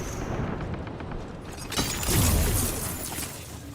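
A grenade explodes in a first-person shooter video game, a loud, close, crackling burst that swells around the midpoint and then decays into rumbling debris.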